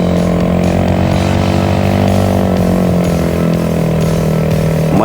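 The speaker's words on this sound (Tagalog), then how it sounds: "Malakas talaga sa ahon ng tong Honda Click 125." A Honda Click 125 motor scooter climbs a hill with a loud, steady engine drone close by, its pitch rising and falling slightly under load the whole time, no voices over it.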